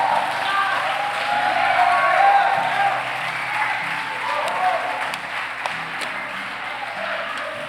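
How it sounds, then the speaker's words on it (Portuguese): A church youth service congregation applauds in a steady, sustained round of clapping that fills the hall, with a few voices and whoops mixed into the crowd noise. "Dá uma salva de palmas ao Senhor Jesus."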